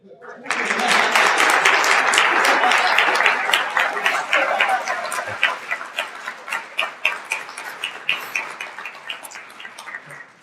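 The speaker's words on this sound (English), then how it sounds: "Keep clapping." A dinner audience at the Peace Islands 2012 Friendship Dinner applauds to welcome the keynote speaker: a loud, dense burst of many hands that gradually thins into scattered, distinct individual claps before fading.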